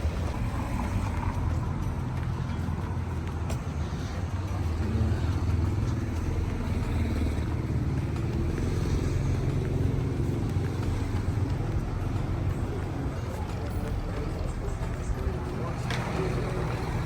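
Steady traffic rumble of cars moving along a busy street in Western Sahara, a continuous low engine drone filling the whole stretch with no clear pauses, mixed with ambient street noise.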